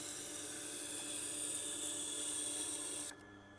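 An 8-inch Victorinox chef's knife is sharpened on a Tormek grinder with a 1,000 grit setting, giving a faint, steady high-pitched grinding whine that stops abruptly near the end.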